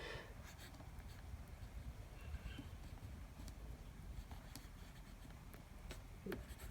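A Visconti Mirage fountain pen scratches faintly over paper in soft, close, intermittent strokes, with a quiet room behind.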